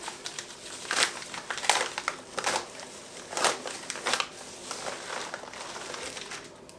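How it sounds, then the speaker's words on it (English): A mail package is opened by hand, its plastic packaging crinkling and crackling in irregular bursts of rustling, close up and moderately loud with no talking. "We are going to open it right now and show you what we got."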